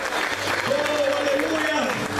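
A church congregation applauds in a dense, continuous wash of clapping, with a preacher's voice sounding over it.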